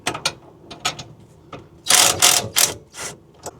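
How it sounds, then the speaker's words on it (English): Ratcheting torque wrench worked on a brake master cylinder during a hydroboost reinstall: scattered close clicks, then a few louder, longer ratcheting bursts, with no talking. "Luckily my torque wrench I happen to have with me is a ratchet"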